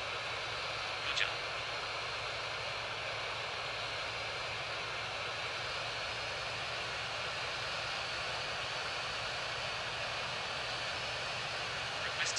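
Jet airliner engines taxiing at Heathrow in a flight simulator, a steady broadband whine and rumble holding evenly throughout with a faint higher tone, no talk over it.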